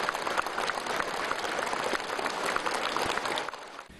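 Warm applause fills the hall at the Macau SAR government welcome banquet for the 15th anniversary of the handover. Many hands clap in a thick, steady roar that tapers off at the very end.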